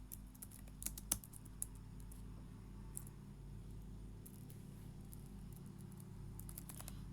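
Faint, sparse keystrokes on a computer keyboard while writing CSS code, scattered soft clicks over a low steady room hum.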